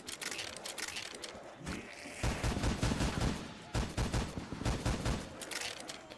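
Long rattling bursts of LMG fire in a Call of Duty Zombies map, loud and rapid, broken by a short pause before the shooting resumes.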